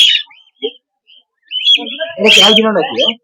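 Caged birds chirp at the Mirpur-1 bird market in Dhaka. A few short, clear tweets come first, then people start talking close by while the birds keep calling.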